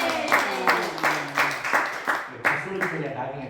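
A church congregation claps to welcome a singer during a Korean worship service, a steady scattered patter of applause with a few louder bursts, close and lively under a speaking voice.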